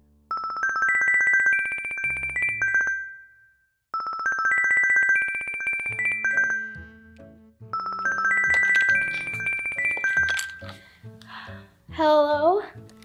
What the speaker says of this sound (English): 10 minutes quickly passed before her princess phone rang